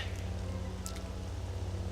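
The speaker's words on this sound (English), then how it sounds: "I don't want to be running out in the acid rain more than I have to now" Acid rain falls steadily on Vjun in Star Wars Jedi Knight: Jedi Academy, a constant soft hiss over a low droning hum, with no voices.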